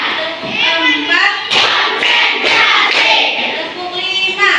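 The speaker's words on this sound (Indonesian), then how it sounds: "Tepuk satu. Tepuk dua. Tepuk tiga." Classroom children clap along to a counted clap chant, a handful of sharp, evenly spaced claps ringing out between voices that chant and talk throughout.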